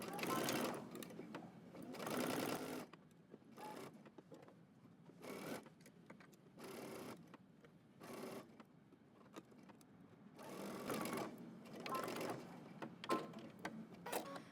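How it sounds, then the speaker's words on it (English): A sewing machine stitches a sleeve seam on a dress with 5/8-inch seam allowance, running in several short bursts with pauses between, close and clear, with quiet talk in the gaps. "you can go ahead and stitch around using 5/8 of an inch seam allowance"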